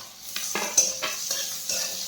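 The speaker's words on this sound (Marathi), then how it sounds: "बटाटे थोडे तळू द्यायचे आहेत" Boiled, mashed potatoes frying and being stirred in a pan with green chillies for sabudana khichdi, giving a steady sizzle broken by several scraping stirs of the spoon, close and unaccompanied by speech.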